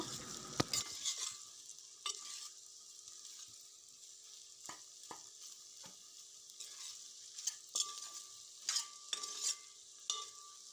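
Potato pieces being stirred with turmeric in a curry pan, a quiet low sizzle underneath sharp intermittent scrapes and clicks of the utensil against the pan, irregular and close.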